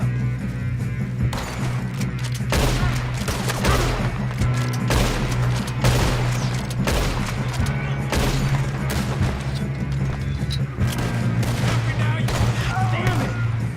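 Rapid bursts of gunfire from Red Dead Redemption 2 crackle in dense volleys over a low, steady music-like drone, with shouted voices mixed in among the shots.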